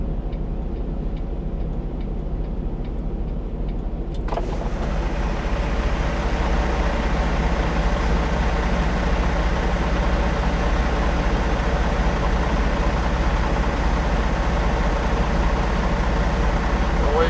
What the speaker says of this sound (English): I want to see what this yard jockey's doing. He is dropping that trailer.